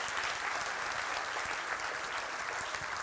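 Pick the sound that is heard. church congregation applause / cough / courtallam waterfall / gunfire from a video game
church congregation applause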